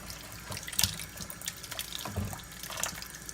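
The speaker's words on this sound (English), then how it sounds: "Just going to run some cool water." Cool tap water runs at moderate pressure into a kitchen sink to rinse raw chicken, a steady close hiss with small splashes and drips and no talking.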